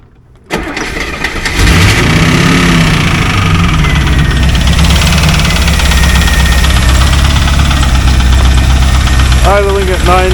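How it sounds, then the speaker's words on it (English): A Chevrolet Corvette fitted with a full exhaust cranks and fires up, then settles into a loud, deep, steady idle around 950 rpm, close up, with a brief voice near the end. "Idling at 950."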